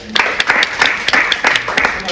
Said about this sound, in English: please join me in a round of applause for Michael Wood